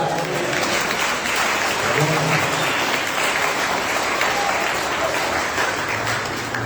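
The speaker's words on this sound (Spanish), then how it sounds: "Dale un aplauso por eso." Congregation applauding during a church service, steady dense clapping that fills the whole stretch at a loud, even level with no pauses.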